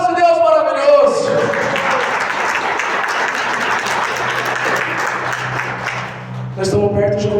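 A Catholic church congregation bursts into sustained, loud applause that fills several seconds, with a voice heard briefly before and after the clapping.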